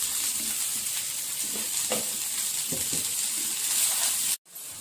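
Onion, garlic, bay leaf, whole spices and coriander seeds roast in a pan for an egg curry, giving a soft continuous sizzle with faint stirring scrapes, cut off abruptly just before the end.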